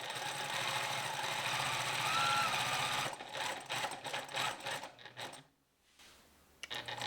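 A sewing machine runs steadily and close, stitching a gathered decorative flower for a French-sleeve blouse, then breaks into uneven bursts and a short pause before starting again.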